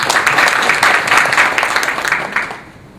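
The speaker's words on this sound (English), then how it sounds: "So I'd like to give you another round of applause for a very good presentation." Sustained, dense audience applause honoring a presentation at a conference, steady for most of the stretch before tapering off near the end, with no talking over it.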